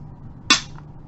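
A short-variant Japanese WW2 Type 99 naval training rifle is dry fired, a single sharp metallic click of the firing mechanism, close and loud, followed by a faint brief rattle in an otherwise quiet moment.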